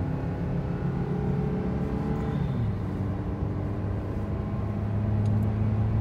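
A 2017 GMC Canyon four-cylinder crew cab work truck with 4.10 gears accelerating, its engine droning steadily and climbing in pitch as it winds out, heard from inside the cab with no talking.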